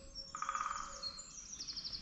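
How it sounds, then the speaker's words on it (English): A small wild bird gives a quick series of high, bright chirps and a thin trill outdoors near a house in the countryside, clear but fairly soft against a quiet background. "That's a funny wee bird."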